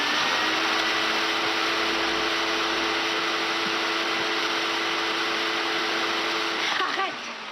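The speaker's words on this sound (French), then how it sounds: "Le bruit de l'aspirateur à 2h30 du matin" A vacuum cleaner runs steadily at night with a loud, constant broadband whine and a sustained hum, cutting off abruptly near the end.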